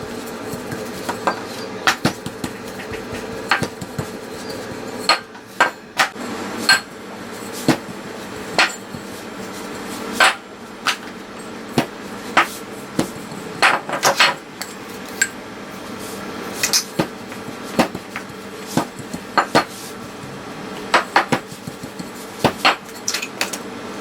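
Croissant dough rolled out on a work surface, irregular sharp knocks and clacks of the rolling pin over a soft rumbling roll, close and moderately loud, no talk.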